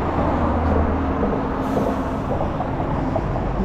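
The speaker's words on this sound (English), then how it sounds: "Kind of a busy street." Busy street with a bus passing, a continuous loud rumble of engines and road noise with a low droning hum, steady and close without any talk.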